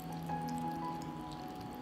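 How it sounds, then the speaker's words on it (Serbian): Water poured steadily over cabbage rolls (sarma) arranged in a pot, a continuous close splashing trickle with a faint steady hum underneath and no talking. "Poređala sam sarmu i sada ću sipati vodu"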